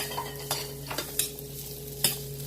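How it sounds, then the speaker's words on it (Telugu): Chopped ginger pieces frying on a low flame, with a soft, faint sizzle and a few sharp scrapes from a spoon against the pan, near and quiet, with no voices. "ఇప్పుడు ఈ అల్లం ముక్కలు కోసుకుని 2 కప్స్ ఇవి ఇలా కొంచెం 2 మినిట్స్, 2-3 మినిట్స్ వేయించుకోవాలి."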